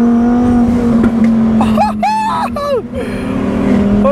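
The engine of a McLaren 720S widebody with a modified exhaust revs up close and loud, rising and falling in pitch over a steady drone, with a voice heard briefly.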